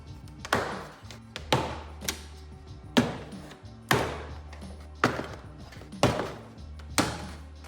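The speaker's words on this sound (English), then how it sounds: "Now I can pop off the door panel." A series of sharp taps and dull thuds at roughly one-second intervals, with plastic clips snapping loose as a door panel is pried off an 80 Series Land Cruiser, close by.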